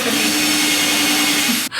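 A power drill whirs loudly and steadily in a new home, running continuously for nearly two seconds before cutting off abruptly, with no talking over it.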